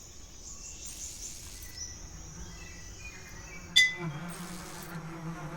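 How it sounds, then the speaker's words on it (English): Bees drone in Metal Gear Solid 3 HD, a thin steady insect buzz that carries on throughout, with a brief sharp game sound near the middle. "Some bees."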